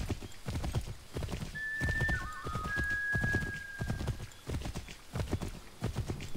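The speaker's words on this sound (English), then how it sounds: "I got my own assassin horse?" Rhythmic clip-clop of a horse's hooves galloping in Assassin's Creed 3, close and steady throughout, with a brief neigh partway through and rumbling game background underneath.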